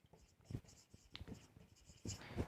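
Quiet, intermittent scratching of writing as land and building values are jotted down during an accounting lecture, faint and close, with soft irregular strokes and pauses between them.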